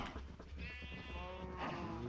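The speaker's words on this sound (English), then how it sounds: "That sheep's been lonely for like forever" A sheep in the Minecraft video game bleats a couple of quiet wavering baas, alone and without talk.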